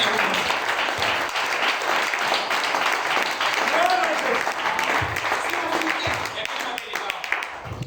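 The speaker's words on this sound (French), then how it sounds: "Acclamons la bénédiction." A church congregation applauds continuously, dense and loud throughout, with voices calling out and talking amid the clapping.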